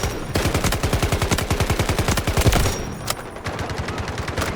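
Automatic weapon fire in the Delta Force shooter: a long, rapid, evenly spaced burst of loud shots for about two and a half seconds, then a few sparser, scattered shots afterward.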